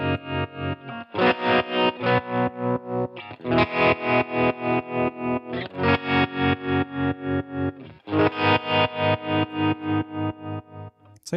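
Electric guitar through a Line 6 Catalyst amp with a tremolo effect and a raised wet blend, sustained distorted chords pulsing in fast, even volume throbs, loud and without talk.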